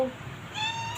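A pet cat gives one short, fairly quiet meow indoors, heard on its own without speech.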